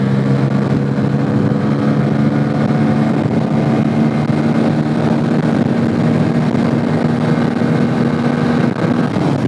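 A Bajaj Pulsar N160 motorcycle ridden on the road gives a loud, continuous engine drone with wind rush, holding a fairly steady pitch throughout with no speech.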